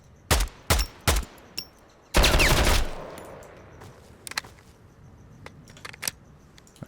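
Gunfire in the shooter video game Road to Vostok: three sharp, loud shots in quick succession, a short pause, then a longer rapid burst, followed by faint clicks and movement noises.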